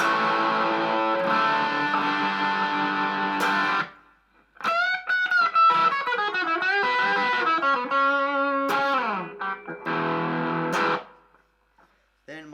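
An electric guitar, an Artist LP59 through a Nu X amplifier on overdrive with a little reverb, plays overdriven chords and then a bending lead line, with a touch of reverb tail, separated by short silent gaps.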